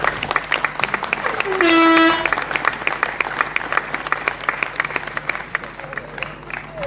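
A union meeting audience applauds itself with lively, steady clapping that carries over a brief horn-like toot early on, loud and continuous throughout, with crowd noise beneath.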